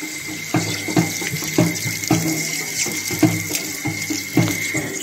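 Pure mountain spring water, milky white in colour, pours steadily near a Garhwal village, splashing close by with an irregular gurgling rhythm.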